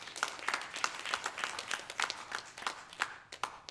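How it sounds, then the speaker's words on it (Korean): Light, scattered clapping rises from a church congregation during Sunday worship, an encouraging round sent to the children as they leave. The sharp, separate claps come from a small number of people and are fairly quiet. "우리 자녀에서 격려의 박수 하겠습니다."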